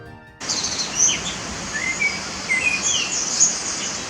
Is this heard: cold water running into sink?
no